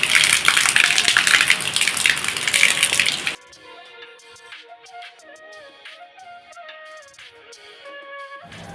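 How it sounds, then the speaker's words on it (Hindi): Very heavy storm rain makes a loud, dense gushing wash for about three seconds, then cuts away abruptly to quiet melodic tones. "बहुत तेज भयंकर वाली बारिश हो रही है।"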